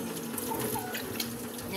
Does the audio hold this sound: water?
yes